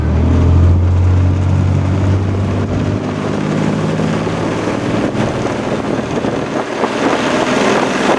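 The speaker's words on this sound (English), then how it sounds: "That high-pitched whine is our turbocharger kicking in." A tour boat's engine roars loudly as it powers up, the turbocharger adding a rising whine over heavy rumble and wind buffeting on the open water.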